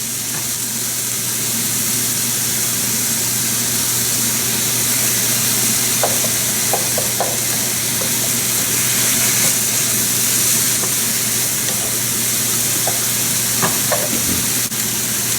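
Garlic frying in a pan, a loud, continuous sizzle with a steady background hum and occasional clinks of stirring, close up, with no talking.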